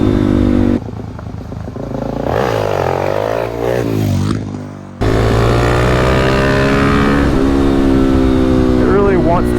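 A Suzuki DRZ400SM supermoto motorcycle rides past with its engine note rising and falling through revs and gear changes. Someone talks over the steady engine drone.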